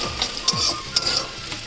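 Onion and carrot frying in a pan with chili and salt, stirred with a few scrapes of the spoon over a steady sizzle, close and moderately loud.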